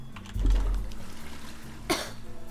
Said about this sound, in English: Maybe I'll just cover it up with my obnoxious coughing.